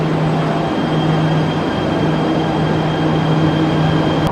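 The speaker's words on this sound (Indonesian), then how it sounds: "Kereta pun berangkat menuju stasiun Lebak Bulus." Jakarta MRT train pulling away toward Lebak Bulus station, heard from inside as a steady loud rolling rumble with a faint whining motor tone, ending with a brief click.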